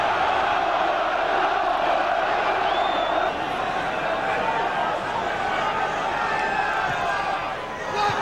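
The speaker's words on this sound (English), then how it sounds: "Crowd really getting behind them now." Football crowd roaring in a stadium during a 1991/92 FA Cup match, Middlesbrough against Manchester City, as a corner is awarded: a loud, continuous wall of chanting and cheering that holds steady throughout, with no commentary over it.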